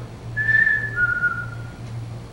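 A person whistles an imitation of a chickadee's song: two clear, pure notes, the first held higher and the second slightly lower, so the phrase falls in pitch. The notes sound alone over faint background hum.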